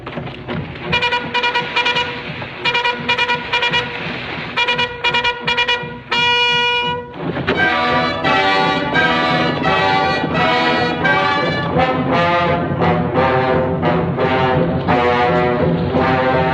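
A cavalry bugle call sounding the gallop on a Wild West battlefield, loud bright brassy notes in quick repeated phrases, followed by a fuller sustained blare of horns that carries on to the end.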